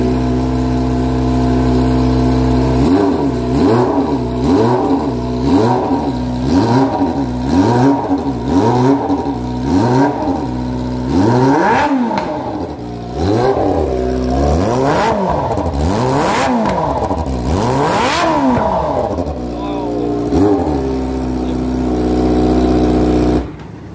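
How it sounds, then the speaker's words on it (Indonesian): Kawasaki ZX25R motorcycle fitted with a Yakuza GP exhaust, revved repeatedly at night in rapid rising and falling bursts, then a few longer high revs before settling back to a loud close idle. "pemasangan knalpot Yakuza GP sudah selesai. Kita langsung tes on ini"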